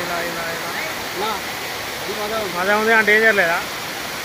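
Baabijhari waterfall at Kerameri rushes as a steady broadband roar beneath a person talking close by.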